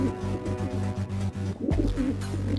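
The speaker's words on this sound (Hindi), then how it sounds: "वो सब कबूतर हमारे दाने को खाने के लिए नीचे उतर रहे हैं" Cartoon pigeons coo as they flutter down to peck at scattered grain, a close, repeated throaty warbling over a low hum.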